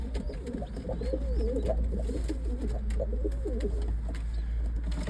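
Pigeons in a coop with chicks, just after feeding, coo continuously in low, overlapping rolling calls over a steady background hum.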